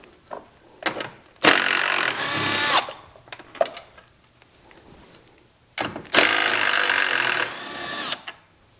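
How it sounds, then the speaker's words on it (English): A cordless power tool running off 10mm bolts on a 2018-or-newer Jeep Wrangler JL headlamp assembly, with two loud sustained whirring bursts and small clicks and handling noises between them. "So grab your 10mm either on a ratchet or cordless tool and back them all the way off."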